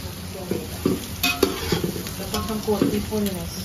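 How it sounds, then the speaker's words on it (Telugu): Onions for Hyderabadi chicken dum biryani frying in a pan, a steady close sizzle broken by repeated scrapes and knocks of a spoon stirring against the metal, with faint voices in the background. "ఆనియన్స్ అయితే ఇక్కడ వేగాలి"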